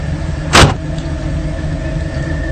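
A car engine idles with a steady, close low hum and rumble throughout, broken briefly by one short loud burst near the start; no talking.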